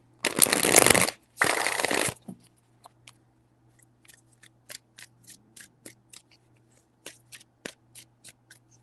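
Two loud riffle shuffles of tarot cards, close up, followed by a run of faint scattered card taps and flicks, with no talking.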